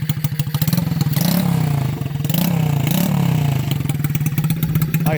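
A 2007 HK1 Kikker 5150 110cc mini bobber motorcycle with a kick start and a four-speed centrifugal clutch, its single-cylinder engine loud and close, putting steadily and then revving up in a few rising surges before settling back to a chugging idle.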